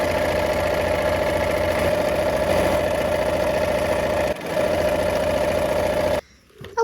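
A sewing machine stitches quilt block squares with a fast, even mechanical whir at close range, briefly pausing midway and stopping near the end.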